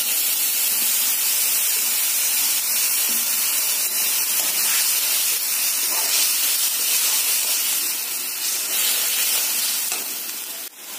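A paste of onion, garlic, ginger and green chili hits a hot pan for ghugni, releasing a loud, dense, hissing sizzle that holds steady and fades slightly at the very end.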